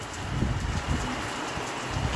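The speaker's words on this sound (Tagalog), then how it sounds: "Ayan, lumakas na yung ulan." Heavy rain pours steadily during the first winter rain in Israel, a dense continuous hiss and patter that stays close and even throughout, with no voices.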